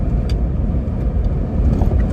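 A car's engine and road rumble heard from inside while it drives along, a steady low drone with no voices or other sounds over it.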